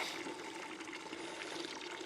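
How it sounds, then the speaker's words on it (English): Water pouring steadily to fill a chicken waterer, a faint, continuous rushing splash lasting about two seconds with no talking. "So fill up their water."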